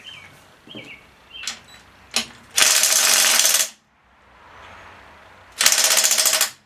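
Hand ratchet loosening 7/16-head bolts on the cover of a 1968 rototiller, with two long bursts of rapid, close clicking and a few softer short ratchet strokes before them.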